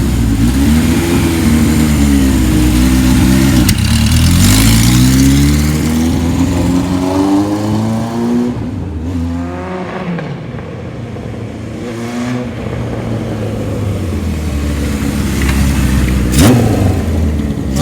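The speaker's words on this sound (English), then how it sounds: "Motor sounds good." A 1978 Kawasaki KZ1000 LTD motorcycle engine revs repeatedly, rising and falling in loud close pulls with a rough idle between them.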